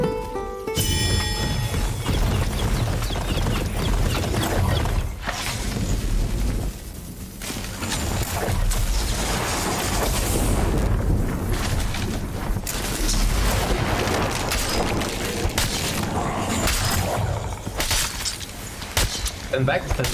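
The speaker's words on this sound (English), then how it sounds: "Flashbang." Video game combat with a flashbang grenade, a dense run of booms, bangs and shattering blasts that keeps going for twenty seconds, loud and cluttered, with voices talking over the action.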